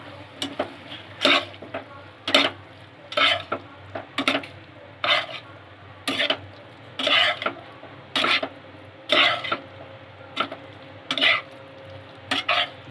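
A spoon stirs pasta and salt in a cooking pot in a home kitchen, giving about a dozen separate scraping, clinking strokes in an uneven rhythm, close and clear with no talking.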